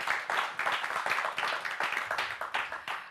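Studio audience at a Gomel evening TV show about pets clapping, a steady wash of many hands with rhythmic swells, fairly close and alone without talk.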